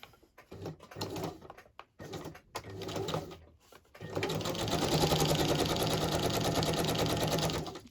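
A sewing machine straight-stitches through paper. Short stop-start bursts of whirring come first, then a sustained fast, even run of rattling stitching, close and fairly quiet.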